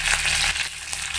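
Curry leaves, about fifteen to twenty, hiss and sizzle as they drop into hot oil with lightly fried ginger, a steady near crackle with no voices.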